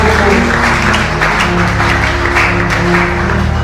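Applause fills a Friday church service as the congregation claps for the Lord, a dense, continuous patter of many hands over a held musical drone. It stays close and loud and keeps an even level from start to finish.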